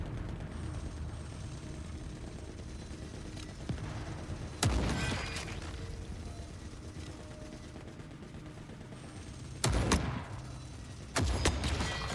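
Sniper rifle shots in the video game The Forever Winter: three sharp, heavy cracks spaced several seconds apart, each with a short rumbling tail, over a constant low mechanical battle drone.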